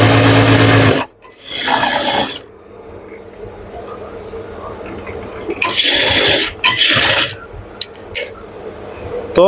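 Sewing machine stitching poplin pajama fabric, running in loud rapid bursts of a few seconds each with quiet handling noise in the pauses between them.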